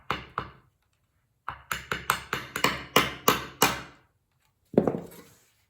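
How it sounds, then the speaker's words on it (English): Sharp, close hammer taps fitting an over-the-door towel rack: two strikes, a pause, then a quick run of about eight rhythmic blows and one final hit, each ringing briefly. "I'm just going to very, very carefully start hammering it."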